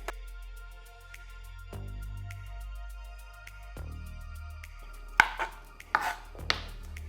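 A knife chops bell peppers on a cutting board in a kitchen, a few sparse strikes early, then a quicker cluster of sharp, close chops toward the end.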